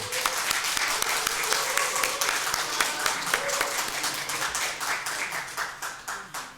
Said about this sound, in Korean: 기쁨의 박수 한번 드리겠습니다